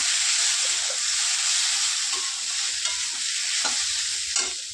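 Potatoes frying in a pan give a steady, close sizzle with occasional soft scrapes of stirring, continuous and fairly loud with no voices.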